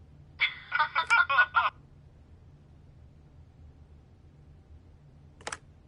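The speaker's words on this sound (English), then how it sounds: "leave a message at the beep and we'll get back to you as soon as" Answering machine beep in the video game The Wolf Among Us: one short, sharp electronic beep near the end, after an earlier burst of chirpy electronic tones and a long stretch of quiet background hum.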